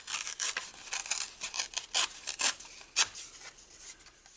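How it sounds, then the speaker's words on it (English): Craft paper for card making is torn in half by hand in a close, quiet series of short dry ripping bursts that come in uneven pulses over a few seconds. "I then played around by tearing this paper in half."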